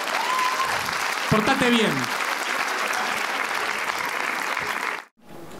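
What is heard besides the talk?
audience applause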